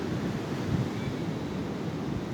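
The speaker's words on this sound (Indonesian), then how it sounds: "aku lagi di pantai" Beach waves and cold wind at Pulau Bubun, a continuous rushing surf with gusting wind buffeting the microphone, fairly loud and steady with small swells in intensity, no voices present.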